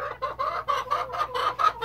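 Chickens in a backyard coop on a small city farm cluck in a rapid, steady series of close, loud pulses with no talking over them.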